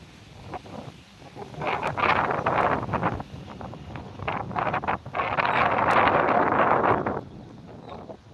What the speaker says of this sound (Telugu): విభత్సమైన గాలి వస్తుంది